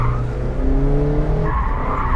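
A Mazda MX-5 RF with Bilstein suspension squeals its tires loudly while cornering hard, a sustained tonal screech over engine noise that shifts pitch partway through.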